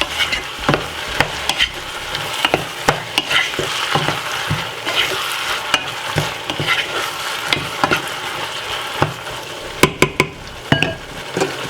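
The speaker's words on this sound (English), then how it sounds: "To give it a stir." King prawns in sweet chili sauce are stirred in a pan, a soft sizzle running beneath repeated scraping strokes and sharp clinks of a utensil against the pan.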